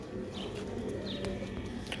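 A Sialkoti green-pearl pigeon coos in soft, throaty, rolling notes close by. Faint chirps and light background clatter sit around it, and no one speaks.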